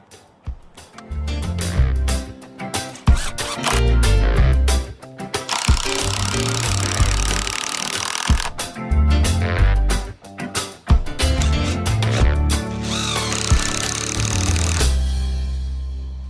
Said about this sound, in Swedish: Som jag trycker dit, skruvar och sätter en extra skruv här utifrån också så jag låser ihop geningen bra.